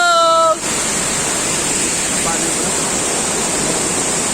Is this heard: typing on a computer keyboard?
no